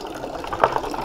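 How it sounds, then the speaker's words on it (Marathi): Cold water flows out from inside a temple at Ramling, a steady close splashing trickle with one brief louder gush. "इथे आतमध्ये मंदिरातूनच पाणी येते आणि थंड पाणी दिलं आहे."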